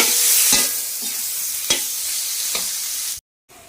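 Small minced chicken pieces frying in a pan, with a bright steady sizzle, several stirring scrapes and a short silent gap near the end.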